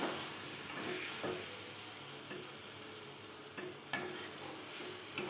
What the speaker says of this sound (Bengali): এখন ঢাকা উঠিয়ে নেব।